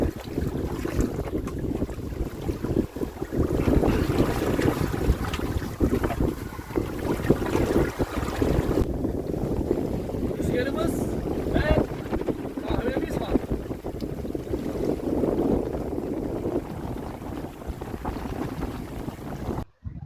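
A sailboat moving steadily through water on the Pacific in an 11–12 knot wind, with strong wind buffeting the microphone and a constant rush of water and waves throughout.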